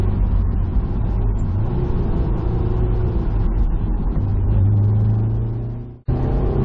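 A 2007 Honda S2000 AP2 accelerates hard in third gear, its engine rising in a loud, steady rumbling drone up close before it cuts off abruptly near the end and then resumes.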